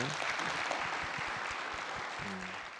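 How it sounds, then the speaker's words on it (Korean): Steady audience applause at a youth talk show event, soft and somewhat distant, continuing evenly with faint voices underneath. "응원의 박수가 필요합니다"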